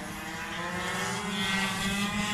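A 50cc racing moped screams past during an 18-hour endurance race at Mortain, its high-revving two-stroke engine drone steady and loud with a slight rise as it nears.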